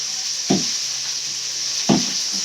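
A drumstick stir-fry sizzles softly in a pan while turmeric powder goes in, with two short scraping stirs breaking the steady frying hiss.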